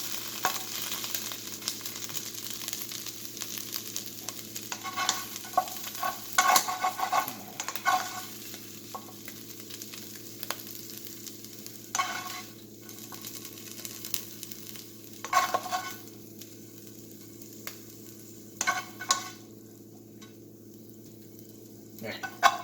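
Potatoes and onions frying in a pan are stirred with a utensil, giving a steady sizzle under irregular scraping and clinking strokes, close and moderately loud, with a low hum underneath.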